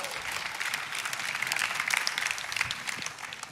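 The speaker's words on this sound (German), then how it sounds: "Applaus an dieser Stelle" Steady applause from a crowd, many hands clapping at once, holding level and then tapering slightly toward the end.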